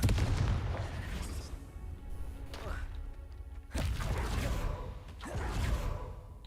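In the Hogwarts Legacy video game the Confringo fire spell is cast, giving loud whooshing fiery blasts with booming impacts in two main bursts, amid ongoing game sound.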